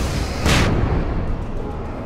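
A flashbang grenade goes off in the video game Alan Wake: one loud, bright burst about half a second in, then a dense, steady rumble of game noise that tapers off slightly.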